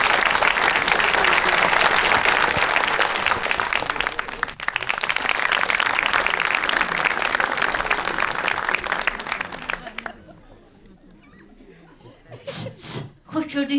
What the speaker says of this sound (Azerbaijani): Alqışlarınızla biz başladıq.